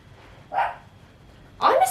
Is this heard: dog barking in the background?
yes